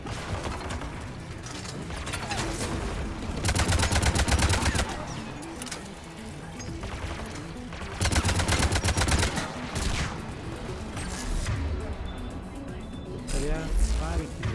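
Automatic turret gunfire in the video game Mass Effect, fighting Geth: loud rapid bursts of mechanical shots in two long volleys with clanking between, while someone talks excitedly in Portuguese over the action.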